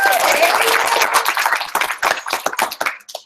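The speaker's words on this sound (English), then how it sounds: "I appreciate the clap" An audience at a support group meeting claps, dense and loud at first, then thinning into scattered individual claps that die away within a few seconds.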